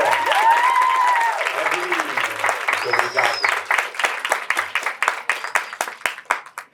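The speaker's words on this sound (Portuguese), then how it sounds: "Uma salva de palmas, por favor." Applause from an audience at a literature festival panel, dense clapping at first that thins into scattered claps, with a voice speaking briefly over it.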